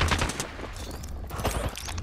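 Rapid bursts of automatic gunfire in Apex Legends, loud and dense and close, continuous across the short stretch.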